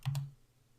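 A couple of quick keyboard clicks close by on a computer keyboard, a brief double tap followed by near silence.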